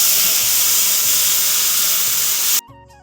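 Green leafy vegetable paste for Uttarakhand kafuli goes into a hot pan, a loud, steady hissing sizzle that cuts off abruptly near the end, leaving quiet background.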